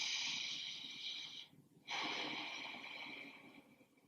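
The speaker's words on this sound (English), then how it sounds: "let's go ahead and take a deep breath in." A slow, deep inhale close by and quiet, a steady airy hiss that pauses briefly before the breath continues, with no talking.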